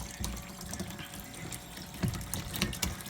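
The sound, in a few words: water draining out of a home water heater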